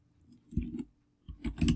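A few quiet computer mouse clicks while a snipping tool is used, two short pairs of soft taps close by in an otherwise quiet room.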